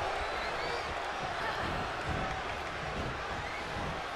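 A video game wrestling crowd roars in a steady, dense wash of cheering that lasts throughout, at moderate loudness, with a commentator talking over it.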